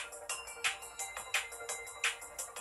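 A faint, tinny ringtone plays from the single small speaker of an iPod Touch, a repeating melodic chime pattern with no talking over it.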